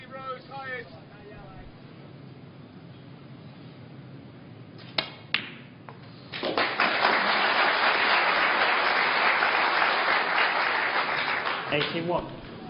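A Bulgarian audience at the 2012 Bulgarian Open snooker final breaks into loud, sustained applause that swells suddenly and holds for several seconds. A couple of sharp ball clicks and quiet commentary come before it.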